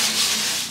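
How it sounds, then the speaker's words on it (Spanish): Sandpaper rubbing over a shelf being refinished, a steady hissing scrape held close for under a second, with no talk. "Vean ahí, ya está lijando"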